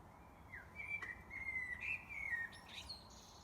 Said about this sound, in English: I just want to hear the blackbird a bit longer.